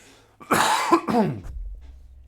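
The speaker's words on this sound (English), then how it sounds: "Cough." A pair of rough, throaty coughs up close, the second trailing into a low rumble before fading out.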